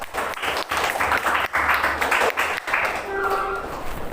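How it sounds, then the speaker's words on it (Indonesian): Students in a middle-school classroom clap together in a dense, steady burst lasting about three seconds, with brief dips, before it thins out under a faint tone. "Ayo, sebelumnya kita tepuk tangan dulu."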